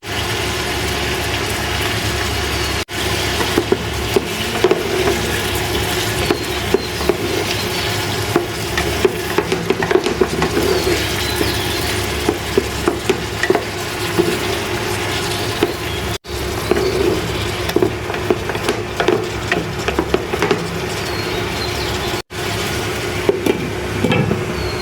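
Sliced bitter gourd fries in a pan, giving a continuous dense sizzle with steady scraping and stirring from a utensil that keeps going for the whole stretch, with no talk over it.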